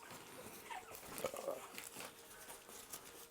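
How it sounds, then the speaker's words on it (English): Small puppies whimper and yip in soft, broken cries close by, the thin high whines rising and falling over a few seconds against a faint room background. "Some beautiful little puppies right there."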